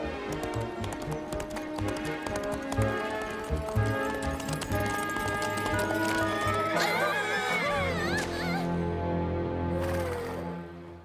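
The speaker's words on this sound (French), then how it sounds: "sella son cheval et se mit en route" Horse hooves clip-clop in a steady trot as a rider saddles up and sets off, mixed under animated cartoon music with a whinny-like flourish toward the end.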